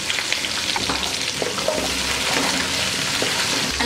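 Drumsticks, bottle gourd, carrot and okra frying in a pot for South Indian sambar, stirred together; a steady close sizzle with soft scraping and stirring, no talking.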